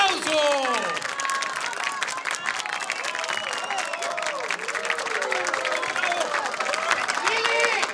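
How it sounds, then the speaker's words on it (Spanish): A television studio audience claps and cheers on a comedy show, with scattered whoops and excited voices riding over steady applause for the whole stretch. "¡Que suene ese aplauso!"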